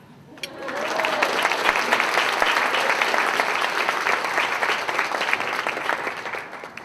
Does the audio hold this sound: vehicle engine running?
no